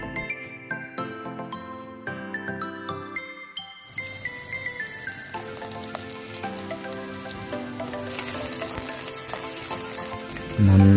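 Chopped ginger, garlic and green chilli sizzle and crackle steadily in a hot pan for tuna curry, a continuous close hiss with music playing over it.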